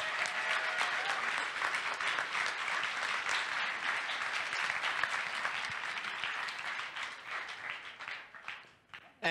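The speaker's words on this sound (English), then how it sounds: "I want to give them a massive round of applause for everything that they did" Audience applause at an anime convention closing ceremony, honoring the security volunteers: dense, sustained clapping from a large crowd fills the hall, steady and loud before thinning out toward the end.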